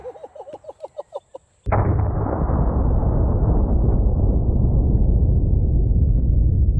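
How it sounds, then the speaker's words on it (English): A fire extinguisher is shot and bursts with one sudden loud blast after a series of rhythmic tones, followed by a long, dense roar of spraying and rushing noise that slowly fades. "And now last, the fire extinguisher."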